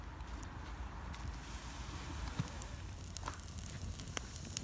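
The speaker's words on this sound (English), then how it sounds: "So you can hear the King Alfred's cakes crackling a bit, which means that they're still a little bit damp." King Alfred's cakes fungus, still slightly damp, burns inside a shell with soft scattered crackles and pops over a dense rushing hiss, growing busier toward the end with no talk.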